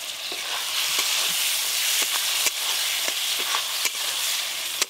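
Fried potatoes sizzling in a pan of spice masala, a steady close hiss of frying oil with occasional spoon stirs and scrapes, no voices.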